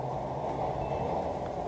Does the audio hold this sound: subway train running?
yes